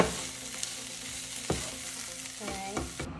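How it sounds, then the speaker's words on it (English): Onions with butter, salt and pepper brown in a pan, giving a loud, steady sizzle with occasional stirring scrapes and clatters throughout. "Right now I have the onions and some butter and some salt and pepper in this pan, and I'm browning it for 8 to 10 minutes."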